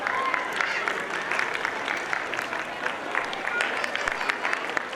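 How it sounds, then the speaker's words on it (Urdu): Loud applause fills a school annual gathering, steady dense clapping running throughout with brief sharper bursts. "زوردار تالیاں."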